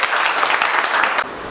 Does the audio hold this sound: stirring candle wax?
no